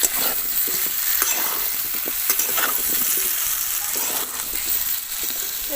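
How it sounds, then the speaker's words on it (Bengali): Raw bael fruit pieces frying in ghee for murabba, with a steady, close crackling sizzle and soft stirring scrapes running throughout, no talk. "বেলটা ঘিয়ে যে ভাজতে শুরু করেছি না"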